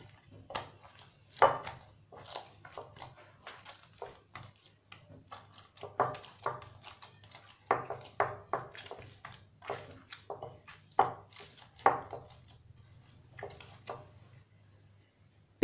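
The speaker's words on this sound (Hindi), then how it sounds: "पिज़्ज़े की डो को मैंने अच्छी तरह से गूंद लिया है" Urad dal is not involved here; pizza dough worked by hand with oil, giving soft irregular slaps and squelches in a steady uneven rhythm, close and fairly quiet, with no talking.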